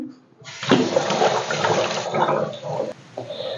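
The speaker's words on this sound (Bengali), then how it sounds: "হাতটা ধুয়ে নিই" Water from a tap runs steadily for a few seconds as hands are washed at a home kitchen sink, a broad hissing splash that starts abruptly, stays close and even, then eases slightly near the end.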